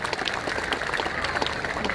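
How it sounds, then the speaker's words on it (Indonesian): Applause from the audience during a Bali governor's year-end address, a steady, fairly faint patter of many hands clapping across the short stretch. "Tepuk tangan untuk para pelaku usaha pariwisata kita."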